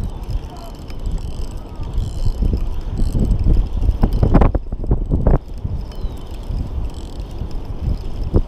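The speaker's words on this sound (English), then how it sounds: "Look how windy it is out there." Constant rumbling wind buffeting the microphone outdoors while catfishing in early spring, with gusty bursts and a few sharp knocks partway through.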